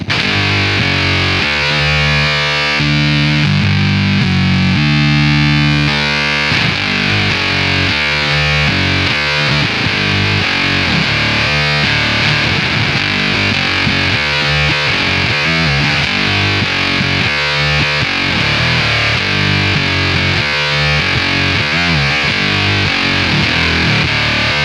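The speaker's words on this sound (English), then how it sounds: "And then remember the up toggle, we can also engage that octave up." Mastro Valvola OFF1 octave fuzz pedal with the octave-up toggle engaged, a loud, dense distorted guitar tone with a bright upper octave riding over shifting played notes, continuous and alone throughout.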